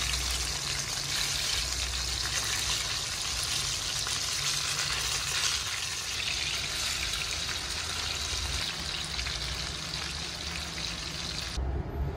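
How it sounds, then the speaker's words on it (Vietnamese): Tuna pieces marinated in Korean chili powder sizzle steadily in a hot pan, a loud, unbroken frying hiss that holds for the whole stretch before shifting slightly near the end. "Chảo nóng thì mình cho cá ngừ vào mình chiên này các bạn."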